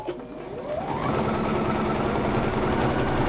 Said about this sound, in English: And we're sewing blind, basically.